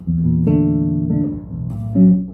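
A short sequence of sustained, low plucked suspended chords on bass guitar rings out one after another, with no talking.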